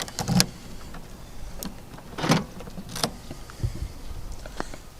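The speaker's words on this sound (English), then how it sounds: "I just have to go around and stick this in the door to be able to lock it." A key goes into a BMW car door lock and turns it by hand, making a few sharp metallic clicks and clunks spaced over several seconds, close up against a low background hum.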